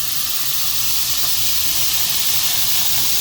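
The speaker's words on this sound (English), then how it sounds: "Now we're going to just spritz them down a little bit with" Spray bottle misting apple cider vinegar onto ribs in a smoker, a continuous close hiss with no pauses.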